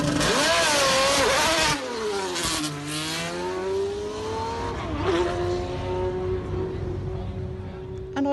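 A Jaguar F-Type R75 sports car engine revs hard, then drops and climbs again through rising gear pulls, loud and close with no talking.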